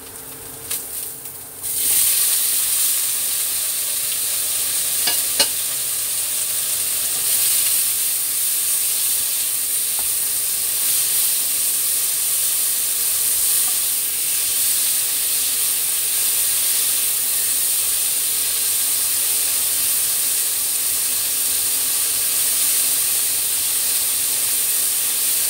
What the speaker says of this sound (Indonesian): Terus aku masukkan tomatnya ya.